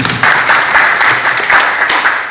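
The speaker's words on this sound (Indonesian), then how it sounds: "kita aplaus dulu ya" An audience claps together at a school-data coordination meeting in Kupang, steady, dense applause that swells and continues for a couple of seconds.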